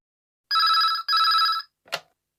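A telephone in a restaurant rings with a classic double ring, two bright trilling bursts close by, followed by a short click as the receiver is picked up.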